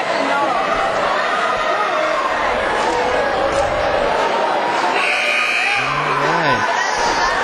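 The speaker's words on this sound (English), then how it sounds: "Still a pretty good crowd right now." Steady crowd murmur fills a high school basketball gym during a Thunder Bay vs Bedford Road game, with a brief buzzer-like tone and some squeaky whistling sounds near the end, continuous and moderately loud.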